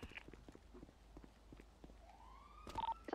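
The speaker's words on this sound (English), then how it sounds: "I hear sirens." Police sirens in the video game GTA, on a Nopixel roleplay server, rise faintly in the distance near the end, over soft, regular footsteps.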